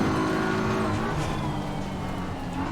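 Race cars roar at full throttle around the Paul Ricard circuit in a racing video game, a dense, steady engine drone with layered high-pitched harmonics sustained throughout with no pauses.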